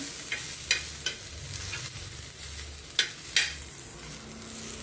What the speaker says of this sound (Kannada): ಈ ಥರ ಸ್ವಲ್ಪ ಕೆಂಪಗೆ ಟಮಾಟಿ ಫ್ರೈ ಆಗಲಿ, ಹಸಿ ವಾಸನೆ ಹೋಗಂಗೆ ಹುರಿಯಕತ್ತೀನಿ ಅಷ್ಟೇ